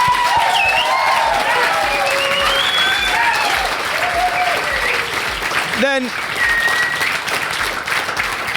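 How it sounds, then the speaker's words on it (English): A conference audience applauds at a coding bootcamp demo day in Berlin, a dense, sustained wash of clapping with a few scattered cheers and voices above it. Someone speaks briefly over it partway through. "So a round of applause for them."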